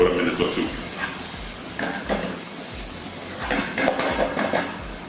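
Onions fry in a little oil in a pan, a soft steady sizzle broken by intermittent scraping and stirring clatter, fairly close and moderate in level.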